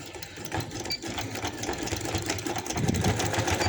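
A sewing machine runs steadily, stitching palazzo pants from the lace border strip, its fast mechanical whir continuous and close, growing slightly louder and heavier toward the end.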